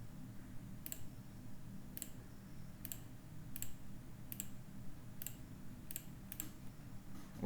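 A steady run of about nine light, crisp computer mouse clicks at an uneven, unhurried pace while a memory puzzle game is solved on a desktop, set against a soft constant hiss.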